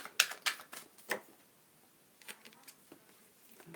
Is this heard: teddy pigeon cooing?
no